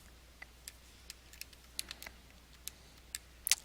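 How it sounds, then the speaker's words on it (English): Fingers tapping the keys of a calculator, a sparse series of small, sharp, quiet clicks spread irregularly over a faint steady background hum, with no talking. "I'm taking out my calculator now. I'm going to type in square root of"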